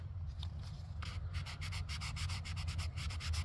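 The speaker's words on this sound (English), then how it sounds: "It is sanding okay." Sandpaper rubs over bonding primer on an Estes Hi-Flier XL model rocket in quick, rhythmic back-and-forth strokes, close and fairly soft, speeding into a steady scratchy pattern.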